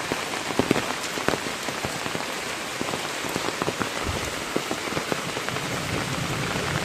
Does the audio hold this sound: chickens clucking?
no